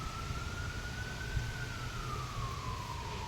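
Fire engine siren wailing steadily outdoors, its pitch sliding slowly downward as the truck passes, over a constant bed of wind and traffic rumble.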